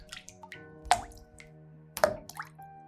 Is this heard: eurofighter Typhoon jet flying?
no